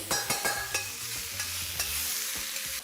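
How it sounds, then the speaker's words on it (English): Chicken pieces sizzle steadily in hot oil while a utensil clanks and scrapes against the pan several times, close up, with no voices. "start frying these chicken pieces"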